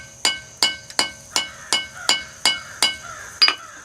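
Hammer blows on a sen scraper being forged, about nine sharp metallic strikes at a steady pace with ringing decays, close and clear with no talking.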